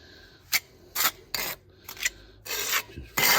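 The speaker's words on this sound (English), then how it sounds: "Push it in and scrape off as much as you can from the surface." Excess grout is scraped off patio paving in six short, close rasping strokes, each lasting about a third of a second and separated by brief pauses, with no talking.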